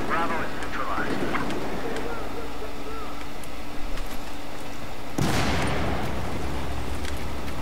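Gunfire and battle noise in Battlefield 4 multiplayer, a steady roar of distant shots and engine rumble with scattered sharp cracks and a louder burst near the end, under occasional speech.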